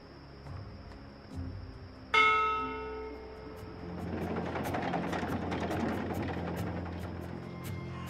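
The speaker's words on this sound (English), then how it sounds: "From what I've learned traveling on cloud ships, this is a ship's bell." A ship's bell rings aboard a cloud ship in the video game Dreamfall Chapters, one sharp ringing strike that decays slowly. A dense rumbling, clattering mechanical din then swells up and continues beneath it.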